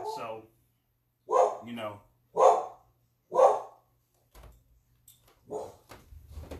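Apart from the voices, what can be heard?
dog barking in the background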